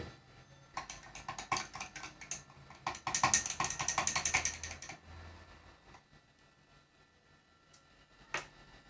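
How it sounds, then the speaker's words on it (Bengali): MEDI MIX-7 sherbet drink being stirred in a glass, a quick run of rapid clinking and scraping strokes that grows busier, then stops, with one last clink after a pause. "এটা এভাবে নাড়বেন এভাবে পাঁচ মিনিট নাড়াচাড়া করবেন"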